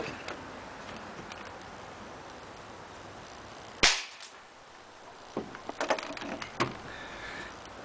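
A single sharp airsoft shot from a camo-painted UTG Type 96 sniper rifle cracks over steady background hiss, followed by a few quieter ticks and clicks.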